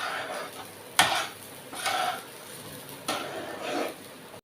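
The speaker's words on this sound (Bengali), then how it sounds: "এটাকে ভালো করে নাড়াচাড়া করতে থাকবো।" Rice dusted with turmeric being stirred in a pot for basanti pulao: three bursts of scraping and rustling, the first opening with a sharp utensil knock, with quiet pauses between.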